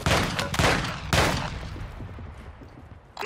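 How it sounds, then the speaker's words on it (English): Heavy bursts of gunfire in the video game Call of Duty: Modern Warfare II, Resurgence duos mode, with two loud volleys early and a decaying rumble before another burst at the end. "Taking effective fire!"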